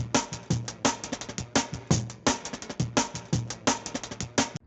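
A chopped hip-hop drum break sample loops busily, punchy kicks, snares and crisp hats in a tight, fast rhythm, steady and fairly quiet with no voice over it.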